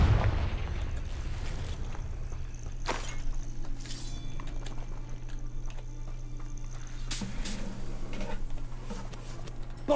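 A Confringo explosion spell is cast in a video game, giving a couple of sudden broad blasts, one near the start and another later, over a steady low droning background.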